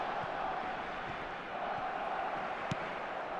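Restless stadium crowd at a Barcelona versus Chelsea match in eFootball 2025, a steady broad roar of many voices with small swells and one brief sharp accent near the end.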